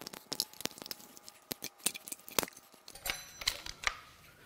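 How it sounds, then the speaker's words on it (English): Cutters snip the pigtails off a wire harness on a Cadillac Northstar L37 4.6L V8 engine in quick, close clicks and crunches, with small metallic rattles between cuts. "Since this wire harness is already chopped, we're just gonna cut the pigtails off."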